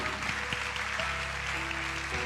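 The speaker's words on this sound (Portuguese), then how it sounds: "Aplauda o Senhor, vai." A church congregation claps for the Lord during a sermon, a steady, dense wash of applause filling the whole stretch without letting up.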